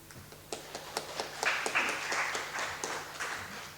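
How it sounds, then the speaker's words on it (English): Seminar audience applause, a modest burst of clapping from a small crowd that swells quickly, holds steady for a few seconds and begins to thin toward the end. "please give a big round of applause"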